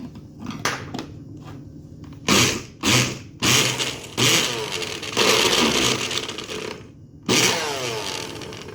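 A blender blending berry sorbet whirs in loud, uneven bursts, the motor straining and rattling as if something catches on the blade, with short pauses between pulses.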